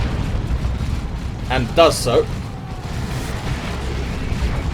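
Plasma cannon explosions in the strategy game Dawn of War 2: a burst of booming impacts in the middle of a busy battle din, with a commentator talking throughout.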